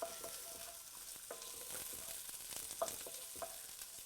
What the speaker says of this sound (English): So I'll just give that a little bit of a stir with my spatula